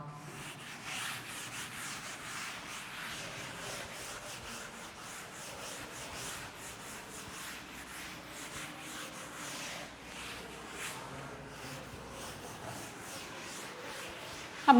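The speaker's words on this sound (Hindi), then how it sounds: "ये मैं रब कर दूँ।" A duster rubbing written notes off a classroom board, a long, steady scrubbing swish in repeated strokes, moderately quiet and alone, ending in a sharp knock.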